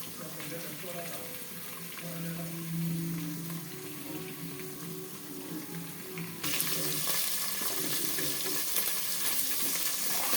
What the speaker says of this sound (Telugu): జస్ట్ నేను వేసింది ఏంటంటే ఆయిల్ మాత్రమే వేసి వేయించుకుంటున్నాను